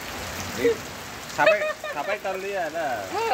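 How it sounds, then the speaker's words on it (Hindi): Heavy rain falls in a village as a steady hiss, with voices talking close over it. "देखते पा रहे हो जैसे कि अभी हमारा यहाँ बारिश हो रहा है"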